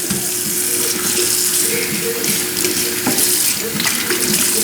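Tap water runs steadily into a sink while live shrimp are rinsed under it, a constant close hiss and splash with small clatters from the shrimp and handling.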